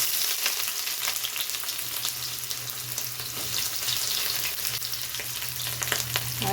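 Chopped onions sizzle steadily in about five or six spoons of hot oil for a village-style sprouted horse gram bassaru, with a continuous close frying hiss, occasional stirring clinks and a low hum underneath, no voices.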